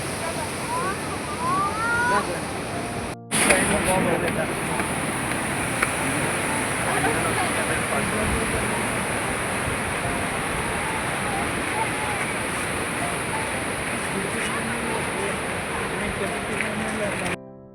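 Swift Alaknanda river rushing along a walkway toward Badrinath temple, a steady broadband roar of fast water held close and loud, briefly interrupted near the start, with faint voices underneath.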